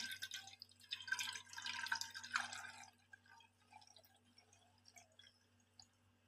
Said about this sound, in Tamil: இப்போ அரைச்ச தேங்காய் பாலை நம்ம 2வது முறையாக வடிகட்டிக்கலாம்